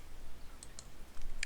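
A few sharp, close computer mouse clicks at irregular intervals, with a small burst of quicker clicks at the end, heard over a quiet low hum.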